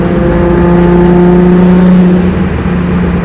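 Close, loud and sustained engine note from a 1996 Nissan Skyline R33 GTST with a GTX3076 turbo, holding steady tones as it pulls hard, with no talking.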